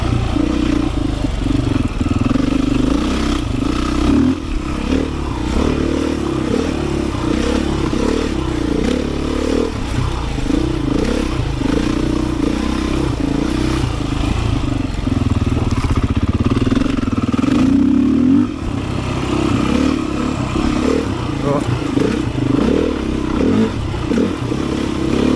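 A Beta 500 dirt bike on the Holton Loop trail, loud close engine roar rising and falling with throttle and gear changes, with clatter and scraping from rough terrain, continuous throughout.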